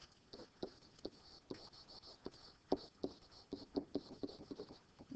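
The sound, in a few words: writing on a board during a lecture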